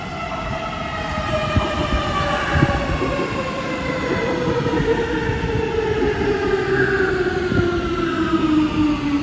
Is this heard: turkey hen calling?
no